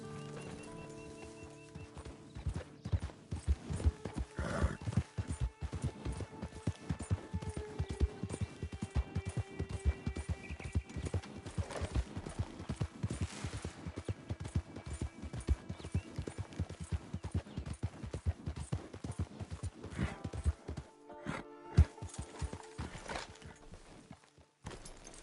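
In the video game Red Dead Redemption 2, hooves clip-clop in a steady walking rhythm for a long stretch, fairly quiet, with an occasional horse whinny and faint ambient game sounds.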